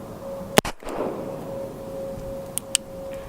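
An M95 Nagant revolver fires a single loud, sharp shot outdoors, then two fainter, brief cracks follow a couple of seconds later.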